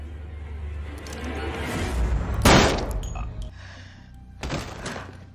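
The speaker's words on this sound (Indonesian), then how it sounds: "Karena merasa kesal dan marah, Wesker menembak Dr. William" Gunshot in a Resident Evil video game cutscene, a sharp loud crack rising out of low rumbling ambience, followed by a fainter second impact a couple of seconds later.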